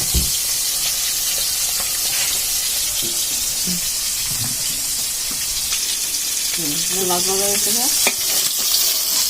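Fish frying in a pan, a continuous loud close sizzle and hiss with occasional stirring knocks, while a voice speaks briefly underneath.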